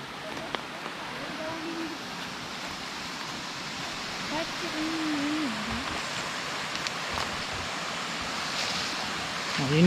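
Small river stream near its source in the upper reaches, with a continuous close rush of flowing water and faint bird calls over the top.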